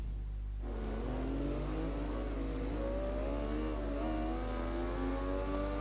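Motorcycle engine in the racing game Ride 2 revving up under hard acceleration on a twisting track, a rising, wavering engine whine over a constant low drone, steady and moderately loud with no speech.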